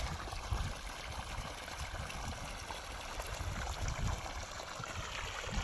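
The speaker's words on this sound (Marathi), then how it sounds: "आता पाणी प्रेशर बघा चांगल्यापैकी पाणी प्रेशर मारलेलं आहे" Water gushing under pressure from a solar-powered pump, a steady broad rushing and trickling flow that stays constant throughout without any voices.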